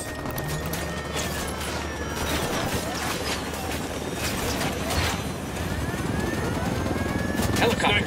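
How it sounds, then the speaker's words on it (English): Military helicopter in Ghost Recon Wildlands rumbling steadily overhead with a continuous rotor drone, mixed with clattering game action and bursts of noise. "Helicopter, get down."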